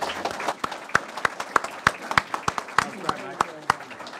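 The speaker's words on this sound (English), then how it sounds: "I'm sure that, like me, you want to give them appropriate applause" An audience claps after a talk on Australian political history, a burst of crowd applause with sharp, closely spaced hand claps at moderate loudness, steady through the whole stretch.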